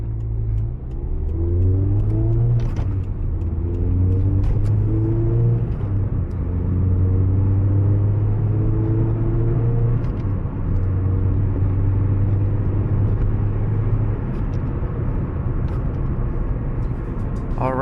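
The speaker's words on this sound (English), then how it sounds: "this does have a little aftermarket muffler. It's a Flowmaster, I believe. While we get it warmed up" A Toyota hot hatch with a Flowmaster aftermarket muffler idles while warming up, a close, steady low exhaust drone with slight rises and dips in pitch, loud and continuous with no talk.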